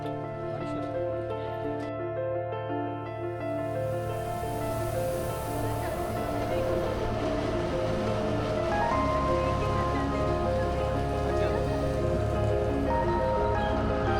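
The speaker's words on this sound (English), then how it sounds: "Since it was drizzling, we had our umbrella ready." Light drizzle falls at Montserrat, a steady soft patter of rain heard close and continuous throughout, with a faint tonal hum running underneath and no voices.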